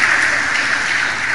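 Dense applause from a church congregation, a steady wash of clapping with no pauses, loud and close, filling the whole moment without talk.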